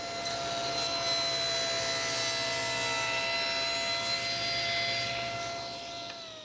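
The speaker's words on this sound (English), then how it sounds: "and then we'll just run it through the blade." A table saw blade rips along the edge of a wooden board clamped to a straight edge, giving a steady, loud, sustained whine with tonal ringing that holds for several seconds, then eases off as the cut ends.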